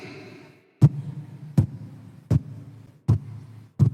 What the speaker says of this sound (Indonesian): Jantung di dalam, berdegup, berdetak, 2 jari sebelah kiri.